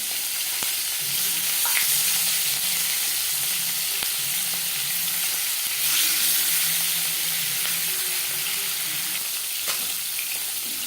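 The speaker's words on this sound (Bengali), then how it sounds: "চার চামচ রিফাইন্ড অয়েল আমি গরম করে নিয়েছি এবার দিয়ে দেবো ম্যারিনেট করে রাখা মাছ" Pieces of marinated poa bhola fish fry in hot refined oil with a steady, loud sizzle that continues throughout, broken by a few sharp clinks of the stirring spoon and no talking.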